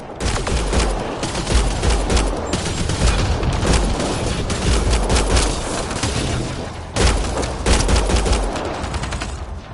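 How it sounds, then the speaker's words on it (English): Dense gunfire from the video game Mass Effect Andromeda, rapid overlapping shots and bursts in a loud, continuous barrage with a few heavier booms, up close. "Naya, shoot it!"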